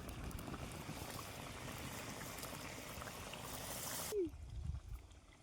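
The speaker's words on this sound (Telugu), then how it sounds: "కుత్త కుత్త కుత్త కుత్త ఉడుకుతుంది ఫ్రెండ్స్" Chicken liver curry boils hard in a pot, giving a steady, dense bubbling hiss for about four seconds before it cuts off abruptly into quieter room sound with a faint knock.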